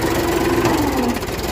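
A Mahindra 265 DI tractor engine runs while the tractor is stuck in a field in Uttar Pradesh, giving a loud, close, continuous rumble with a steady knocking throb and no talking over it.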